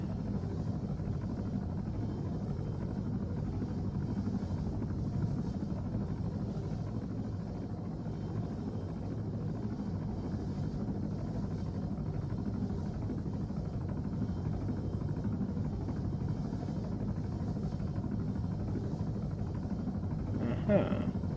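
A helicopter's rotor in the video game ARMA III throbs as a steady, low, droning engine hum throughout, with a player talking over it.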